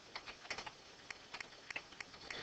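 Keys clatter on a computer keyboard as a sample sentence is typed, a quick, irregular run of light clicks close by with short pauses between bursts.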